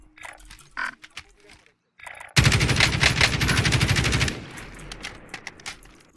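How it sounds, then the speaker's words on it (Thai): Rapid automatic gunfire in Call of Duty Warzone, a loud, close burst lasting about two seconds after scattered quieter game sounds, then trailing off into lighter clatter. "มันยิงใครอ่ะ"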